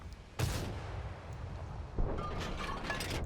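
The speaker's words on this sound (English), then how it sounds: "This is the old artillery." Old artillery fire in a tank video game: two loud booming blasts, one early and one midway, each trailing off into a sustained rumbling roar with scattered crackling debris behind.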